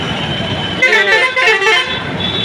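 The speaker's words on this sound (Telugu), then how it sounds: "ఇక్కడ పెద్ద పెద్ద లారీలో టౌన్లోకి వస్తున్నాయి" Traffic on a town road where large lorries are heading into town, with a loud horn blaring in the middle over a rumble of engines and general street noise, close by.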